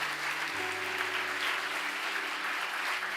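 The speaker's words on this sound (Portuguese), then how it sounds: "Vamos aplaudir Jesus pela sua mãe aí." A church congregation claps together during a Portuguese-language evangelical service, a sustained even patter of many hands heard fairly softly with a low hum beneath.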